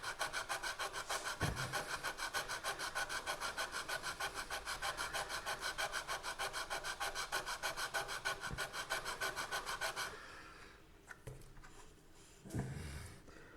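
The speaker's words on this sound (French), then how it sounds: "Donc là, il suffit de poncer pour rattraper." Steady rhythmic rasping strokes of sanding on the wooden parts of a 1/64 scale Hermione ship model, close and continuous for about ten seconds, then a few lighter scrapes and small knocks.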